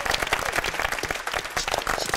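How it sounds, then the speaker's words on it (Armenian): Audience members clap for Simon at an evening event, a brief patch of fairly sparse, uneven hand claps at moderate volume. "Եկեք ծափարենք"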